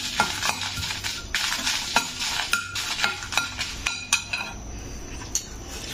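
Garlic cloves sizzle and fry in a pan for peanut garlic chutney, a steady crackling hiss broken by repeated sharp scrapes and clinks of a spoon stirring against the metal, close and fairly loud throughout.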